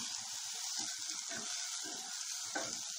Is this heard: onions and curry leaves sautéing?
yes